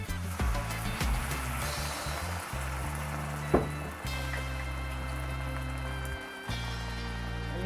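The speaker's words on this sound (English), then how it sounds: "now I'm going to go in with half a cup of white wine" White wine hits a hot pan of shrimp scampi and sets off a steady crackling sizzle with a soft rain-like patter that runs throughout, with a few brief clunks of the pan in between.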